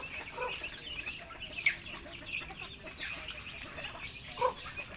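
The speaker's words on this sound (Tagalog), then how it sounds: "Mga sosyal yung mga manok ko na yan eh." Backyard chickens cluck softly and intermittently in a farm setting, with a few sharper calls standing out over low background noise and no voices.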